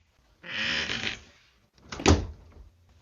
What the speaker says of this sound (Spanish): Sonidos de la puerta cuando se abre y se cierra.